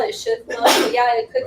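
A single sharp sneeze bursts out in the middle of a conversation, loud and close, with people talking just before and after it.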